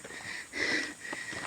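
A hiker on the Mt Irid trail pants heavily, out of breath after nearly two hours of climbing. Several breathy, rasping huffs rise and fall close to the microphone, with no speech.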